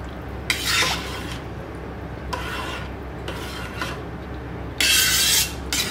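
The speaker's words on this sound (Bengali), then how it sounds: "জলটা দিয়ে এবার আমি ভালো করে নাড়াচাড়া করে" Rice and water are stirred in a rice cooker, producing three or four short, close scraping and rasping strokes against the pot over a low steady background hum.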